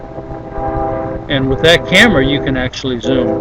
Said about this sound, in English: That's a train, by the way.